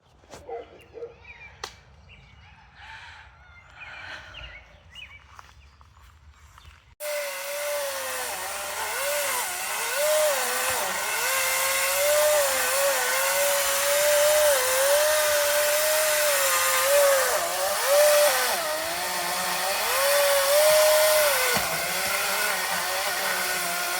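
A chainsaw cuts into a big tree, starting after a quiet stretch of faint rustling and then buzzing loudly and continuously at close range, its pitch wavering as it bites into the wood.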